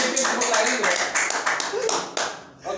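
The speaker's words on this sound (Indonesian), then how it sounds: "Tepuk tangan boleh." Audience clapping on an Indonesian talk show set, a dense steady patter of hands that runs throughout, with voices mixed in underneath and a sharp swell near the end.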